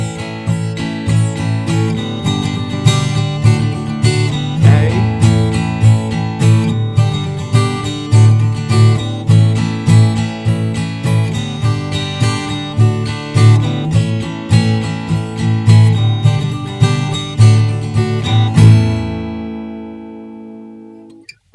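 The first measures of a song play as a recording, with a steady driving beat, strummed chords and layered instruments, then a final chord rings out and fades in the last few seconds.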